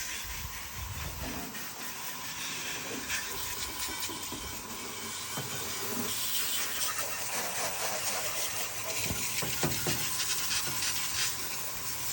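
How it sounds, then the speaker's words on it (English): Degreaser sprayed across the engine compartment of a 1959 Cadillac, a continuous close hiss with faint rattling and shifting noise that carries on steadily without a break. "I'm going to continue to spray all this"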